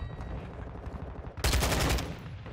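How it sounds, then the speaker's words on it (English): A sudden loud burst of gunfire in Modern Warfare 2 breaks in halfway through, a dense half-second volley that fades after a quieter stretch of game ambience. "I don't know who the hell's shooting at me"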